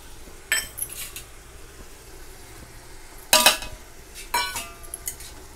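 A utensil stirs spices into potato curry with moong sprouts in a pan, giving a few sharp metallic clinks and scrapes at uneven intervals over a faint sizzle, close by.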